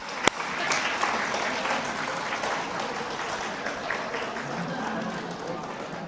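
A church conference audience applauds steadily and fairly loudly, a dense wash of many hands clapping, with some voices mixed in beneath.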